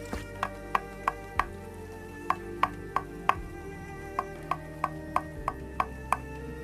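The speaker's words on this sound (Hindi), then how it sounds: "इस बार दस्तक पहले से कहीं ज्यादा तेज थी।" Loud knocking on a door, heard as sharp raps in quick bunches of two to four, repeating again and again with short pauses between, close and alone.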